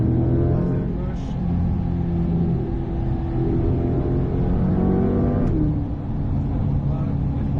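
A Corvette C8 sports car's engine accelerates on a race track, a loud, steady close-up drone and rumble with a rising pitch shift near the end; people talk over it inside the car.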